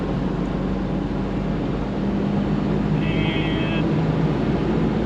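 A Ford 6.0L diesel truck with a faulty EVP sensor accelerates at wide open throttle, a steady loud engine and road drone holding through the shift toward fifth gear.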